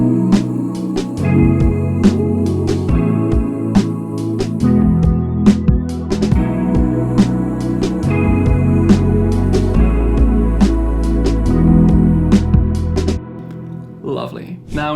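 A chord progression played with drums, atmospheric sounds and a bass. Crisp drum hits tap steadily over sustained chords and a deep bass line, loud and full, fading near the end.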